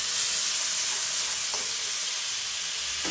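Crushed shallots and green chillies hiss and crackle in hot oil in a pan, a loud, steady close-up sizzle with a couple of faint stirring clinks, no voices.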